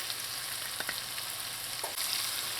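Chopped onions and celery sizzle in melted butter in a pot for lobster chowder, a steady soft frying hiss with a couple of faint stirring clicks and no talking.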